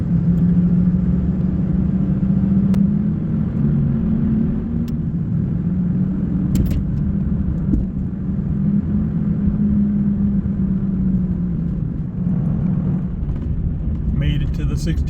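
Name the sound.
truck driving on a road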